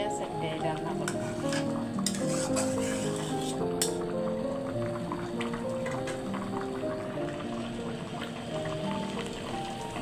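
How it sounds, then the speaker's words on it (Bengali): Eggs and potatoes cooking in a pan, with a steady sizzle and the scrape and clink of stirring throughout, loud and close. "ডিম দিয়া আলু দিয়ে রান্না করছি আজকে"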